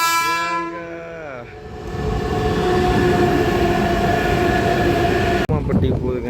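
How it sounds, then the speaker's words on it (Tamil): A local train in India passing close by, a loud steady rumble of wheels and carriages rolling past for several seconds, with a horn sounding at the start and voices underneath. "கூமாப்பட்டி போகுதுங்க அந்த ட்ரெயின்."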